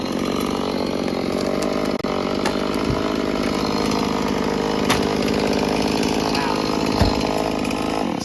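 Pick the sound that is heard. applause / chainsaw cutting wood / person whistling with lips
chainsaw cutting wood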